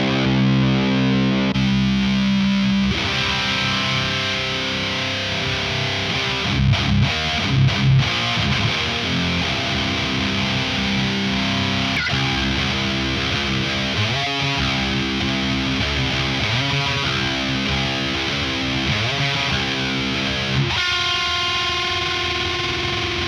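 A heavily distorted electric guitar chugs through loud, thick 90s/00s-style nu metal riffs with palm-muted stops and a ringing chord near the end.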